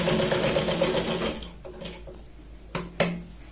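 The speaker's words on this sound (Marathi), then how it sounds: "मुंड्याच्या साईडने शोल्डरला आपण 2 ते 3 वेळा इथे स्टिच करणार आहोत।" Sewing machine stitches a shoulder seam on a Punjabi dress in a steady fast whir that runs for about a second and a half, then stops, leaving quiet handling with two sharp clicks near the end.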